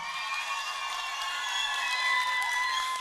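Audience applause at a contest, following the first pair's performance, a steady wash of clapping with some cheering, moderately loud and even throughout.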